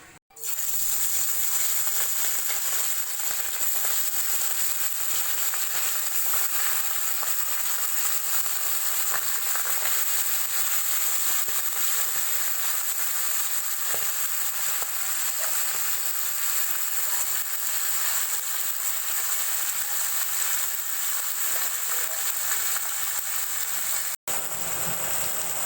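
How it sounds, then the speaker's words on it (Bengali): Pomfret fish fry in hot mustard oil in a kadai, giving a steady, even sizzle that hisses continuously for the whole stretch and cuts off briefly near the end. "এবার আমরা মাছগুলোকে ভেজে নেব।"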